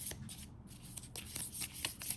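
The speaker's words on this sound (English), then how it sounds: "I always love circle cards, but they're just such a pain to shuffle." Round circular cards shuffled by hand, a steady run of soft papery riffles and flicks close by, quiet and alone without any talk.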